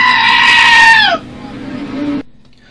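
A goat on a small farm on the Isle of Wight bleats one loud, close, wavering cry that drops in pitch, followed by a quieter trailing call.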